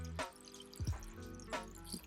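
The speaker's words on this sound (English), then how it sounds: "then we'll add cold water" Cold water poured over chicken with salt, herbs and dill in a pot. It comes as a few short close splashes and drips with quiet gaps between them, and no one talks.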